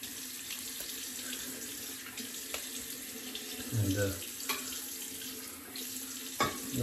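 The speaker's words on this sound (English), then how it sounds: "I'm just going to put a little water in my bowl so I can dip the tips." Tap water runs steadily into a shaving bowl at a bathroom sink during a morning wet shave, a continuous close splashing hiss with a brief louder gush near the end, and a voice speaks briefly over it.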